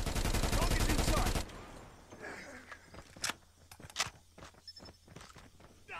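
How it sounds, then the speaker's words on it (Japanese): Rapid gunfire from the Krig 6 video game opens loud and dense for about a second and a half, then gives way to scattered footsteps and a few sharp sharp cracks in the background. "いや結構足音はしてるんですけどね"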